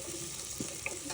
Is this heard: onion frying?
yes